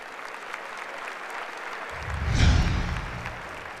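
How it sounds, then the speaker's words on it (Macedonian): An audience at a live music awards show breaks into a short burst of clapping that swells and then settles, heard from within a large hall. "Да ги поздравиме со аплауз."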